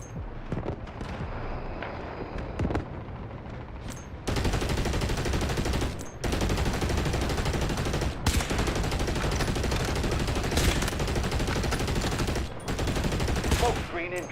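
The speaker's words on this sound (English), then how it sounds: "Artillery barrage incoming." Artillery barrage and gunfire in the video game Delta Force, dense rolling blasts and rapid rattling shots filling the scene loudly in long sustained bursts with brief pauses between them.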